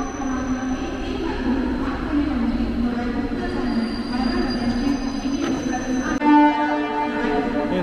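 A train on the Uran line runs at Nhava Sheva railway station, a steady rumble of wheels with a sustained metallic squeal on top and a short louder tonal burst near the end, with a voice faintly present.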